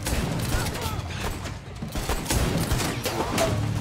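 Gunfire from a TV drama scene, a police standoff in the series Outer Banks, heard as a dense, continuous fusillade of shots over about four seconds with no pause.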